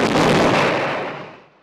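War explosions in a film soundtrack, one heavy, rumbling blast that fills the whole range and roars loudly before slowly fading out over a second and a half, with no voices.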